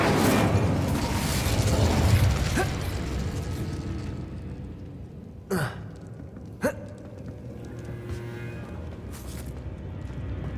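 The Incendio fire spell cast in Hogwarts Legacy, a rushing, roaring blast that fades over a few seconds, followed by two sharp whooshing impacts and a fainter one later.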